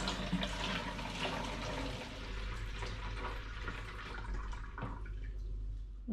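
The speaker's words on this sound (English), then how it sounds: "So now I'm going to pour this back into the original fermenting vessel." Fermenting apple cider must is poured back into its fermenting vessel, giving a continuous close gush and splash of liquid that carries on for several seconds with no talk.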